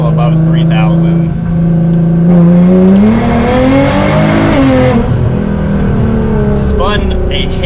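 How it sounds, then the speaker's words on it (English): A Nissan GT-R tuned with rolling launch control and anti-lag revs up loudly in second gear, engine pitch climbing steeply then dropping on a shift, with an occasional sharp pop; a person talks over it. "There is rolling launch control in the Nissan GT-R, an anti-lag system"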